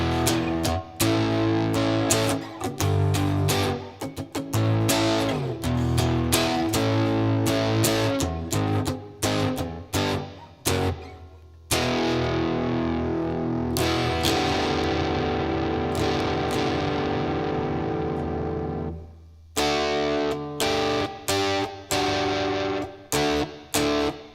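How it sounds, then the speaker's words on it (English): Electric guitar played through a LEKATO PA1 pocket amp set to a light crunch distortion, with loud strummed chords and riffs, sustained ringing passages and abrupt stops, no talking. "So now we're getting into an amp that's got some distortion on it."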